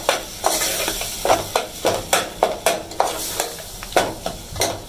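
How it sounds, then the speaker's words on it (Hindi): Spice masala roasts in a pan for a dal, giving a loud nearby sizzle with rhythmic scraping stirs roughly every half second throughout, and no voices. "चलिए थोड़ा सा हमारा मसाला भून गया तो दाल डाल देंगे।"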